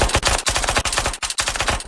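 Rapid, continuous automatic gunfire from a video game rattles without pause, a dense synthetic burst of shots at a steady fast rhythm.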